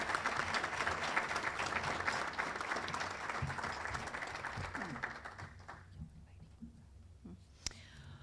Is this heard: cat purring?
no